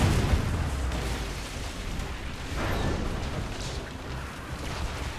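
Ship cannons firing in a naval battle in the Assassin's Creed Rogue video game: repeated heavy booming blasts and rumbling explosions overlapping one another in a loud, continuous barrage.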